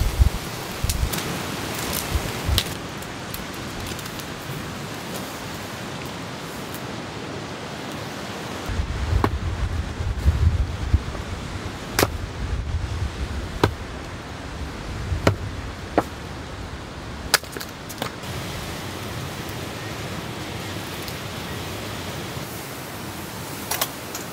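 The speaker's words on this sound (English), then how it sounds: "The rain's come back pretty heavy." Heavy rain drums steadily on a large tent during car camping in a storm, a dense continuous wash with occasional sharper drips and thumps, and no talking.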